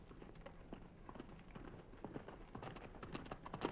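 Horse hooves clip-clop at a steady walking rhythm near a barn, a series of distinct, moderately close hoof strikes under faint background noise.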